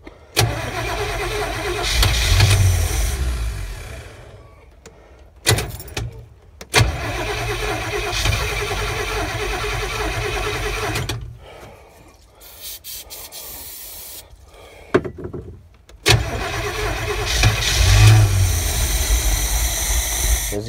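A cold car engine cranks in long grinding bursts, catching and running briefly between pauses and restarts. The tries are loud and close, with the engine revving rough in between.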